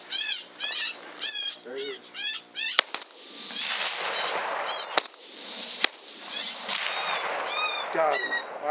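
A rifle fires at a coyote about 200 yards away in the outdoors: two sharp, loud cracks ring out a few seconds apart amid chirping birds and a steady hiss of wind or background noise.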